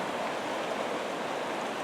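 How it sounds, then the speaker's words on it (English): The North Fork of the Flathead River rushes past in a steady, close, even wash of flowing water with no pauses and no other sounds. "Here we are on the North Fork of the Flathead River."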